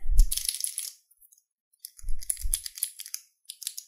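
Two bursts of crisp, rapid clicking from blue mechanical keyboard switches in a switch tester kit, sharp and close, separated by a moment of silence, with a few lighter clicks at the end.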